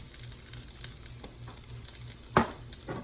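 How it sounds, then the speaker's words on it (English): Green beans sautéing in a skillet, seasoned with garlic powder, pepper and salt: a low, steady sizzle with occasional scrapes and stirs, one sharper clatter near the end. "We'll saute these until they are cooked to our liking"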